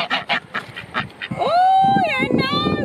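Ducks being fed give several short, loud quacks in quick succession, followed by a longer honking call with a few more calls overlapping, all close by.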